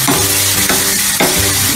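Carrots sauté in hot ghee in a pan for carrot halwa, a loud, steady sizzle broken by a couple of stirring scrapes up close.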